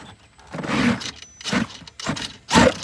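RC truck transmission under heavy load, with a Vitavon SCX6 transmission fitted in a Raminator monster truck. Short whirring, grinding bursts come in four rough pulses, each louder than the last, close and with no talk.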